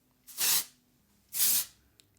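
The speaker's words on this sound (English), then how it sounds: "hit it with some dry texturizing spray" ORIBE dry texturizing hair spray hisses out of an aerosol can in two close, evenly spaced bursts of about half a second each, with quiet gaps between them.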